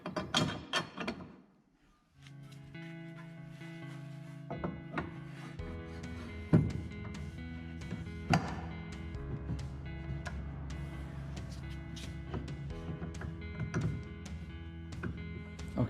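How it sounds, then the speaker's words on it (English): Provisional bolts fitted into a handmade wooden tiller for a Hallberg-Rassy 312 sailboat, with quiet rubbing, creaking and mechanical clicks of wood and metal over a steady low hum, a couple of sharper knocks, no talking. "now it's time to insert the provisory bolts on the tiller and check."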